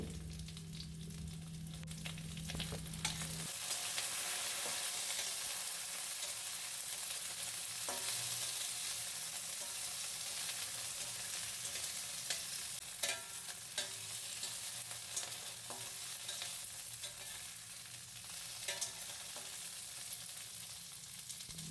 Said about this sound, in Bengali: কাঁচা লঙ্কা গোটা কয়েক এরপর দেব রসুন তো এগুলোকে ভাজবো ভালোভাবে